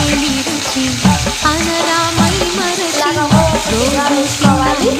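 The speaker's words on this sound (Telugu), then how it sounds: "ఇప్పుడు ఇలాగా మనం దాంట్లో కావాల్సిన కొంచెం ఆయిల్ వేసుకొని ఇలాగా కొంచెం జీలకర్ర వేసుకోవాలి" Cumin seeds dropped into hot oil in a pan for chicken gongura, sizzling steadily close up while a voice talks over it throughout.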